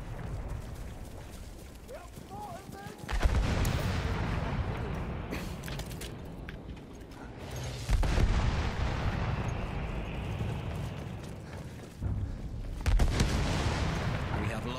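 Big artillery guns fire in the World War I shooter game Battlefield 1: a few heavy, deep booms rumble through a busy battlefield soundscape, with a loud blast near the start and more roughly every few seconds.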